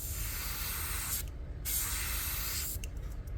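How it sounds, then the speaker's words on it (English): Spray paint goes on in light, quick hissing bursts, several short sprays separated by brief pauses, close and fairly soft, with no talking. "just do a quick spray right there"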